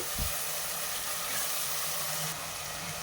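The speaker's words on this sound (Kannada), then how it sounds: "ಶುಂಠಿ ಬೆಳ್ಳುಳ್ಳಿ ಪೇಸ್ಟ್ ಫ್ರೈ ಆಗ್ತಾ ಇದ್ದಂಗೆ" Ginger garlic paste sizzling and frying in a hot pan while cooking chicken pepper dry, a steady close hiss with no talking.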